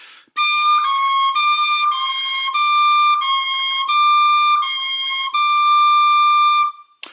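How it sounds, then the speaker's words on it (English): A Killarney tin whistle plays a run of clear, steady notes, including a C natural fingering, in a series of sustained tones with short breaks between them, close and alone. "On the Killarney, I have to use a C natural like this."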